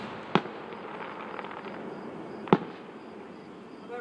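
Two sharp firework blasts go off, each a single loud crack roughly two seconds apart, with a faint crackling tail and a low outdoor rumble between them.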